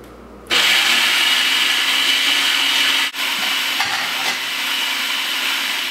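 A food processor starts abruptly and runs steadily on low speed, blending roasted garlic hummus with a loud, even whirring drone and a brief dip in the middle.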